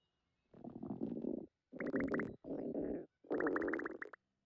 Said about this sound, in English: Whoa, your tummies sure are rumbling.